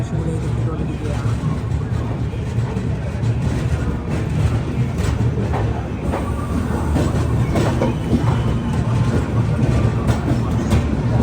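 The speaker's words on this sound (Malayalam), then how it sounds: "5:58 ട്രെയിൻ ഇതാ വിജയവാഡ ജംഗ്ഷൻ റെയിൽവേ സ്റ്റേഷനിലേക്ക് എത്തിക്കൊണ്ടിരിക്കുകയാണ്" Vivek Express, Kanniyakumari to Dibrugarh, pulls into Vijayawada Junction with a dense, loud, continuous rumble of rolling coaches and wheel noise, steady throughout with faint background chatter.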